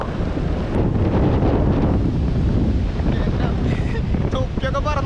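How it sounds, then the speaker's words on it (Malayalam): Strong coastal wind buffets the microphone over crashing sea waves during heavy rain, a loud continuous roar with surf surging throughout and faint tonal sounds near the end. "തിര മാത്രല്ല, ഭയങ്കര കാറ്റ്."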